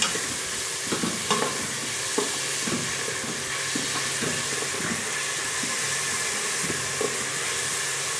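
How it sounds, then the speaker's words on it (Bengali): Onions fry in a pan for a spicy dhaba-style chicken curry, giving a continuous sizzle broken by regular scraping knocks of a spoon stirring against the pan, close up and with no talking. "পেঁয়াজটা একটু ভাজা ভাজা হোক।"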